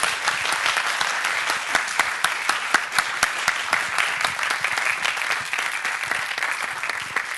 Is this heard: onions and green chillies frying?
no